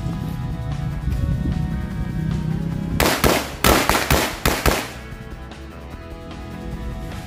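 A quick burst of several sharp Corsair XL firecracker bangs goes off in succession, loud and nearby, over a steady background hum, at Chinese New Year.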